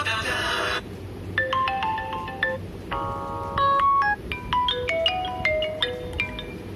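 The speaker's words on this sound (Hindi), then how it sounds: "चलिए यहाँ पे रिंगटोन्स पे चेक कर लेते हैं कैसा है।" A Vivo V11 smartphone plays a melodic ringtone of bright, plucked notes in quick rising and falling runs, moderately loud and close, with brief pauses between phrases.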